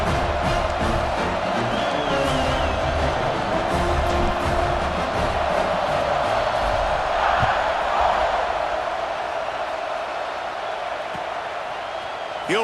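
Loud, sustained roar of a college football stadium crowd at kickoff, a dense wall of cheering voices that holds steady throughout with a few louder swells, while a broadcast announcer talks over it.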